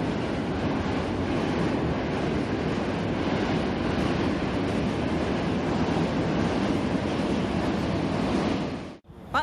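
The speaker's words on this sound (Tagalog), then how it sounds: "Oh, may train din pala doon." A train rumbles past overhead beneath the Brooklyn Bridge in Manhattan, a loud, steady broadband roar mixed with wind buffeting that holds for several seconds before cutting off abruptly near the end.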